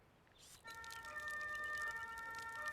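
An ambulance siren from the video game Emergency starts after a brief quiet moment. It then wails steadily and holds a fairly faint, continuous tone, with no talk over it.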